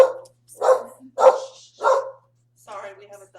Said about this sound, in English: Sorry, we have a dog barking.